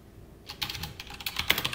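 Quick bursts of keystrokes on a computer keyboard while SQL is typed in a MariaDB lesson, starting after a short pause and continuing in an uneven, steady clatter, close and moderately quiet.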